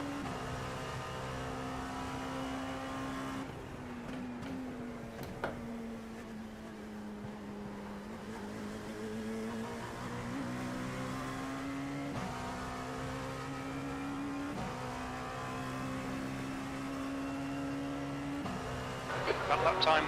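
Race car engines whine steadily through a long stretch of a 24-hour Sebring endurance race in a video game, the pitch rising and dipping with gear shifts under a faint, continuous hum of other cars.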